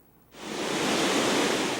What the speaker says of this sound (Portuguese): A força da água que sai da válvula dispersora do açude Armando Ribeiro Gonçalves